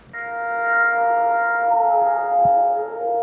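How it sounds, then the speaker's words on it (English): A steady, eerie drone of layered sustained tones from a 1960s hilltop wind harp installation hums and wavers slightly in the wind, with a brief faint click partway through and no voices. "a recording of an installation wind harp from the 60s, which was like built on a hill"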